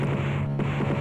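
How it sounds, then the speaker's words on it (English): Chainsaw effect from Guardian Angel on the Amiga, a droning foghorn-like low tone holding steadily for about a second with a slight wavering pulse. "And that sound is supposed to sound like a chainsaw."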